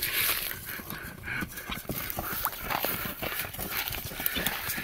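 Hooves clip-clop in an uneven rhythm as a horse moves close by, the footfalls sharp against a busy outdoor background.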